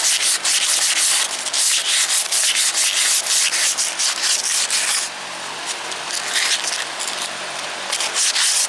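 Sandpaper of 400 grit rubs back and forth over a part on a big truck, smoothing out scratches in fast, close, loud scrubbing strokes with a brief pause midway, no voices.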